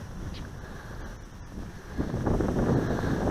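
Gusty wind buffets the microphone at an outdoor park while a model plane flies, producing low rumbling blasts that swell louder toward the end.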